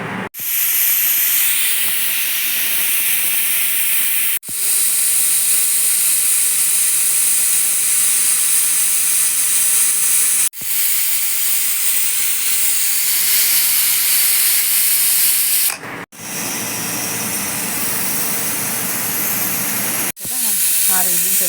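A pressure cooker on a gas stove vents steam with a loud, steady hiss while boiling dosakaya (cucumber) dal with carrot. The hiss runs almost unbroken, dropping out only for a few brief gaps.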